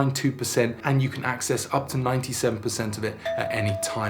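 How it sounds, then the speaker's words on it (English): A home doorbell rings with a single clear, sustained tone near the end, sounding under a person's continuous talking. "That's my doorbell."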